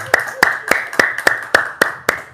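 Eight slow, rhythmic claps ring out in a steady beat, close and clear, as a gathering for an evening prayer event with orphans claps along together.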